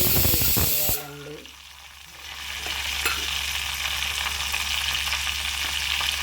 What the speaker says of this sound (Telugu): కొంచెం పల్లీలు వేగే వరకు ఉండాలండి